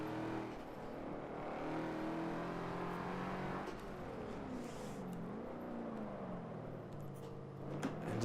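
A racing video game car laps the Nordschleife, its engine a continuous revving whine that rises and falls through gear changes while braking into corners, fairly faint and without talk.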